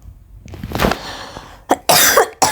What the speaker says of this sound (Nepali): मलाई खोकी लागेर घाँटी दुखेर पनि भइरहेछ